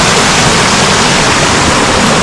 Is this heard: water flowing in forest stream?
yes